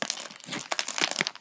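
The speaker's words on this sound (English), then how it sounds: "So let's get cutting and free him from his plastic prison." Plastic packaging around a bootleg Fang the Sniper plush is handled and cut open, producing quick, close crinkling and crackling with rapid sharp snips and rustles throughout.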